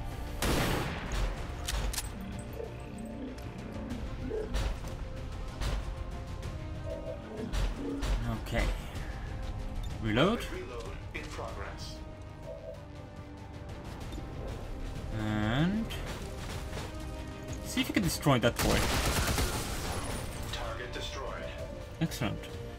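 Gunfire in the tactical game XCOM 2: scattered volleys and single cracking shots spread over the stretch, with bursts and booms clustered late, mixed with someone talking throughout at similar level.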